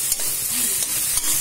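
Onions frying slowly and being stirred in a pan, a short burst of steady close sizzling with a few quick scraping strokes, no speech.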